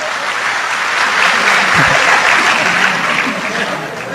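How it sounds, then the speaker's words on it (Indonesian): A crowd applauds at an Islamic religious gathering with Gus Baha, a steady burst of clapping that fills the whole stretch, loud and close, with no talk over it. "Tepuk tangan untuk Gus Kausar"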